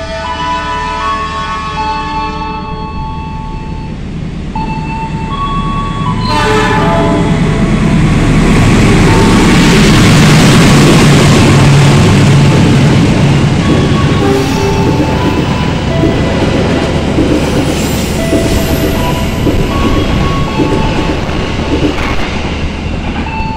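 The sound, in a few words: passenger train passing station with horn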